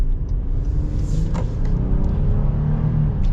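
A 2022 Honda Pilot TrailSport with a 3.5-liter V6 being driven, a steady low engine and road rumble heard from the cabin, with no talk.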